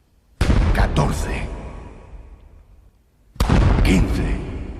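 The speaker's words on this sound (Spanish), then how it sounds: "Solo se han disparado 15 cañonazos." Two loud, booming cannon shots of a ceremonial salute marking a royal birth in Madrid, each sharp blast followed by a long rolling echo that slowly fades, spaced about three seconds apart with no voices.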